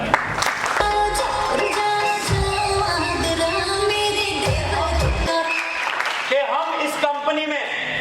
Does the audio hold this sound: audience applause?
yes